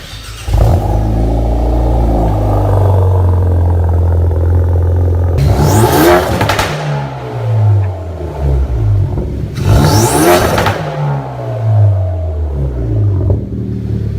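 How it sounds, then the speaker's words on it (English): A Hyundai i30N with an X-Force dump pipe and full X-Force exhaust idles loudly, then revs hard twice in sharp, roaring bursts, each falling back to a burbling idle close to the listener. "It has an X-Force dump pipe off the turbocharger and an X-Force full exhaust out the back."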